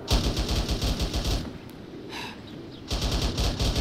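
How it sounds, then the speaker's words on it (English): Fast automatic AK rifle fire in the ARMA 3 military game, two sustained bursts of rapid, loud shots separated by a short pause. "I heard AK fire west"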